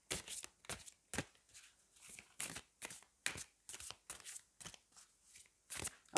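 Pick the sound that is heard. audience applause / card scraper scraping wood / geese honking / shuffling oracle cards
shuffling oracle cards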